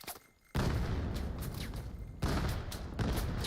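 Grenade blasts and gunfire erupt in the VR shooter VAIL during a competitive match, a loud booming burst after a brief quiet moment followed by dense sustained shooting and a second heavy impact.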